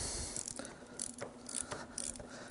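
A hand ratchet clicks in quick bursts as 10 mm bolts come loose on a Suzuki DR 650 motorcycle during a front sprocket change, with close, crisp pawl chatter and short pauses between runs of clicks.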